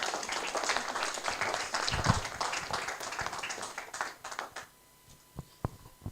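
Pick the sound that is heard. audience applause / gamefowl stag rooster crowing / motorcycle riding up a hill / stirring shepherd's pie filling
audience applause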